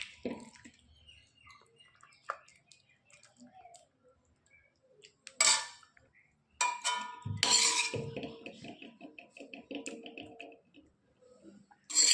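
Cooked pumpkin greens scraped and tipped from a pan onto a plate at home: scattered soft clicks and drips, then brief louder clatters of utensil against pan and plate, with quiet gaps between them.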